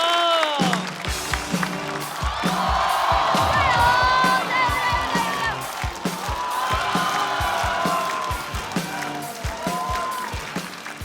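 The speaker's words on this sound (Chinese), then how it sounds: "热烈的掌声有请刘仁成。" A stand-up comedy audience cheers and claps loudly as a comedian is introduced, swelling in waves, with shouts and whoops rising over the applause.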